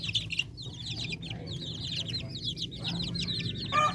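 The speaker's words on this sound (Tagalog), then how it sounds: "Itong mga sisiw natin to na mga 1 month old." Young one-month-old Darag native chicken chicks cheep and cluck steadily at close range, a busy chorus of high chirps running throughout over a low background hum, with a brief sharper call near the end.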